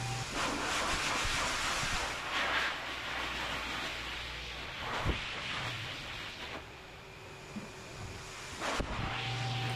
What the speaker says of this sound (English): Let's get started blow drying him.